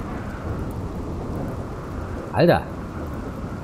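A thunderstorm in the video game RimWorld: a steady wash of rain, then one brief, sharp lightning strike with a ringing crack, while someone speaks a single word.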